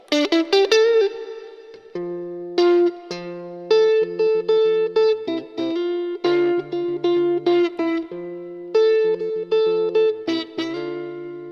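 Overdriven electric guitar through a Joyo JA-05G mini amp plays a steady run of distorted chords and single notes, loud and close, phrase after phrase with short gaps and no talking.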